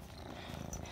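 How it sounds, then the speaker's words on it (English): Cat purring deeply and steadily up close, a continuous low rumbling texture with no voices. "She's purring really deeply."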